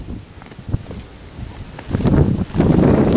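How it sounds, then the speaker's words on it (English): Gusty wind blows during a blizzard with a few inches of snow already down, a rough rumbling roar that builds and swells louder toward the end, close to the microphone. "Boy, is it windy and nasty."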